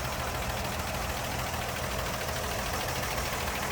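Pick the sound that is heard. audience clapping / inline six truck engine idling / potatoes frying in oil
inline six truck engine idling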